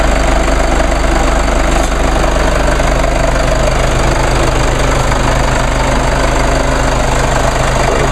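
A Mercedes-Benz GLK 250 twin-turbo diesel idles up close, a loud, steady, even hum with a faint ticking knock running through it and no voices.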